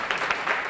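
Brief, steady clapping from a theater audience at a televised concert, a dense wash of hands heard from a distance without voices on top.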